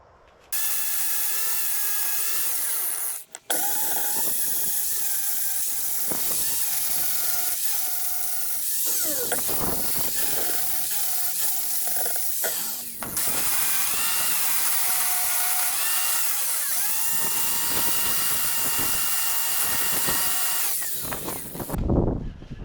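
A handheld power tool grinds and cleans up welds on steel bumper mounts for a 2006 Volvo XC70, running loud and steady close by for about twenty seconds with brief stops and shifts in pitch as it works the metal.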